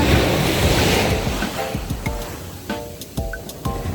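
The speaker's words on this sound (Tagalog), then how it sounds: "Ang dami ng alon, sayang no?" Ocean surf washes in with a loud rush that fades, followed by softer lapping water and scattered knocks and splashes nearby.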